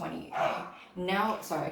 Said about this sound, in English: that's my dog in the background if you're hearing that.